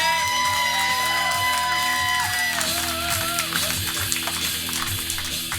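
A comedy club audience at a roast battle cheers and whoops for a comedian taking the stage, with loud sustained crowd noise, shouts and yells, and a backing music track running underneath.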